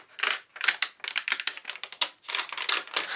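Sheets of parchment paper in a handmade journal rustle and crinkle up close, in quick, crisp bursts of handling with short pauses between them.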